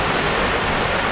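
A forest stream runs steadily, a dense, continuous rush of flowing water close by with no pauses and no voices.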